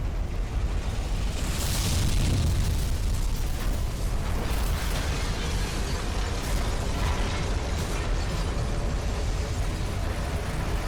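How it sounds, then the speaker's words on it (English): A reactor meltdown explosion in the video game F.E.A.R. rumbles as a dense, sustained roar with layered debris crackles and mechanical clatter, loud and unbroken throughout with no talking. "explosion."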